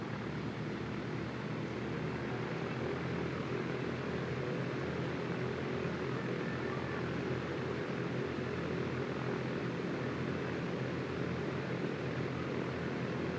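A light airplane taxis toward a runway in the X-Plane flight simulator game, giving a steady, even engine drone with an airy hiss that stays constant throughout, with no talking.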